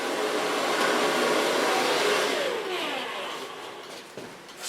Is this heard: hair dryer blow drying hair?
yes